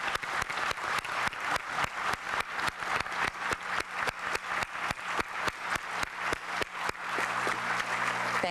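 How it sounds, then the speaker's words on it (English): A graduation ceremony crowd for an adult learning center gives a loud, sustained round of applause, dense clapping filling the whole stretch without a break. "please give a big round of applause to the Jefferson Adult Learning Center and Port Huron South"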